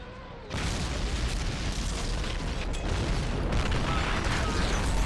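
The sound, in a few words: Nebelwerfer 41 artillery explosions in video game Men of War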